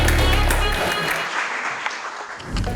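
Studio audience applause on a Hindi reality show, a loud continuous burst of clapping from a crowd, with brief background music at the start and end.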